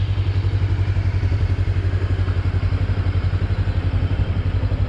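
A 2021 Daytona Maverick 500 motorcycle engine idles nearby with a steady, rapid low thumping pulse, loud and continuous throughout.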